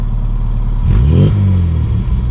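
A classic Mini's engine idles loudly close up, then blips through one quick rev whose exhaust note rises and falls away before settling back to a steady idle.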